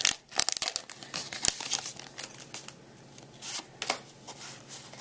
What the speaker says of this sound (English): These packs, like, rip very easily.